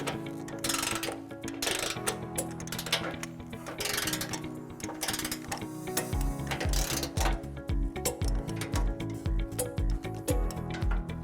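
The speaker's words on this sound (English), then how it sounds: "Now we're going to tighten and torque all of our remaining nuts to the manufacturer specification." A socket ratchet with a 15mm socket tightens flange nuts on a trailer hitch being fitted to a 2019 Tesla Model S, making a close, steady series of rapid clicking strokes that speed up into a quick rhythmic ratcheting.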